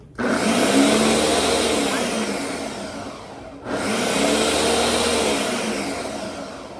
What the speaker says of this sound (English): I can't have this blender on and doing it at the same time. It's just too loud.